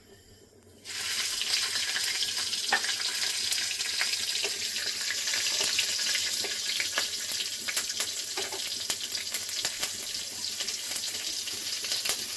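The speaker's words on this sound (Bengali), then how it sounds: "এই তেলেই ফোড়ন দিয়ে দিব। কাঁচা লঙ্কা দুটো, তেজপাতা, রাঁধুনি, কালো জিরে।" Green chillies, bay leaf, radhuni and black cumin tempering in hot oil for a Bengali bottle-gourd greens dish, an abrupt loud sizzle breaking out after a second of quiet, then a continuous hissing crackle with scattered pops.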